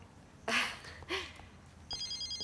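A mobile phone starts ringing with a rapid repeating electronic trill, preceded by two short vocal exclamations nearby.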